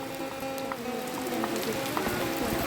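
Light rain falling in a rural Lao village, a soft steady patter of drops on surfaces with a few sharper plinks and a faint background hum.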